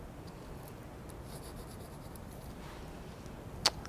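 A pen or pencil drawing the lines of a triangle on paper gives a faint, quiet scratching that runs on steadily, ending with a single sharp tap.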